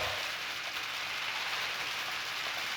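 A homemade percussion instrument imitates rain, giving a steady, dense hiss of tiny pattering grains that stays even and close throughout, with no voices.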